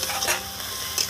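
Spice masala for ghugni frying in a pan with a splash of water, stirred briefly; a short close burst of sizzling with a couple of quick spoon scrapes.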